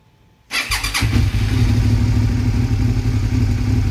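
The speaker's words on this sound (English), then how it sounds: "I should be able to push this and it fires up without messing with the throttle." A small engine with a bad spark plug cranks and fires up, then settles into a loud, steady, somewhat rough running idle close by, with a brief clatter at the start.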